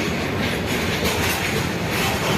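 A train at Balichak railway station rolls close by, a loud, steady broadband rumble of carriages and wheels with faint clickety-clack and occasional metallic squeal, unbroken across the whole moment with no voices.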